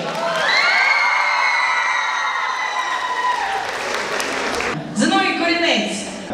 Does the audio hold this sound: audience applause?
yes